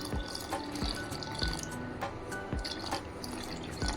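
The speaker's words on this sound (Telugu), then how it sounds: "కొంచెం ఇందులో వాటర్ యాడ్ చేసుకుందాం" Water splashes and drips into dosa batter made with sour yogurt, in a series of short, irregular bursts, close by and fairly quiet.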